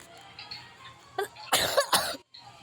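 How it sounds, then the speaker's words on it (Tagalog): Several harsh coughs in quick succession from someone who is ill, close and loud, with a quiet pause before and a brief gap after. "Sunod-sunod na naman yung ubo niyo."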